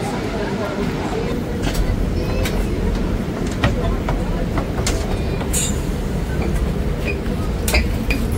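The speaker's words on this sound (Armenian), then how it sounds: "Մեր գնացքը արդեն այստեղ է։" A passenger train pulls into a station with a steady, loud rumble of wheels on rails, broken by occasional sharp metallic clicks and clanks.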